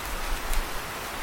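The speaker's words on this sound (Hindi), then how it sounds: "जंगल में बहुत तेज बारिश हो रही थी।" Heavy rain pours down in a forest as a cartoon sound effect, a dense, steady wash of noise with no gaps, loud and close throughout.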